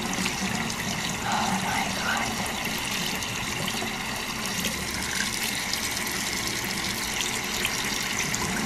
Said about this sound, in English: these are the little styrofoam that'll dissolve if you run them in water